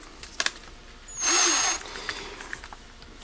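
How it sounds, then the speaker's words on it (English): A handheld drill whines at high pitch for about half a second, deburring a milled AR lower receiver by hand, grinding against metal, with light clicks and handling noises before and after. "we're gonna deburr that by hand. Well, with the drill."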